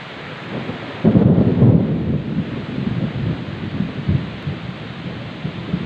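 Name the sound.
river area rain with thunder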